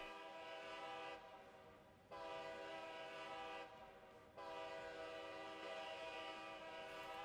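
Model railroad horn sounding at a grade crossing on a BC Rail layout, two long steady blasts separated by a short gap, then a third sustained blast, loud and close with no talk.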